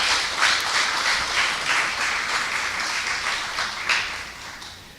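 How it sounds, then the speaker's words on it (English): A crowd applauds at an International Women's Day recognition awards ceremony honoring women of the region. The clapping is a steady, dense, fairly close wash that holds for the whole stretch with small swells. "Give women an awesome round of applause."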